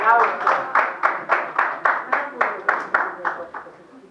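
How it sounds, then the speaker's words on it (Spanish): An audience at an international seminar on World Heritage cities claps in a steady rhythm of about a dozen even, crisp claps, close and fairly loud, then the claps fade. "Un aplauso."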